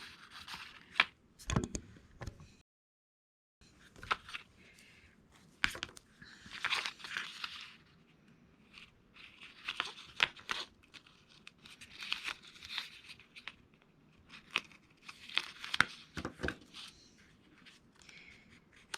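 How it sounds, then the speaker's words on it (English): Double-sided tear-and-tape strips being pulled and ripped for a handmade 6x6 mini album, bursts of crisp tearing and peeling rasps with scattered crinkles and rubs, quiet and close, separated by short pauses. "So I'm going to get my tear and tape and liquid glue out and get this adhered."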